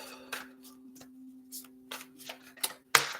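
Tarot cards are shuffled in quick, irregular bursts of papery riffling and slapping, close by, with a faint steady hum underneath.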